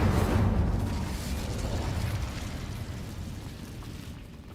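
An Incendio fire spell cast in a Harry Potter video game gives a loud, low whooshing roar that starts strong and slowly fades, heard on its own with no talking.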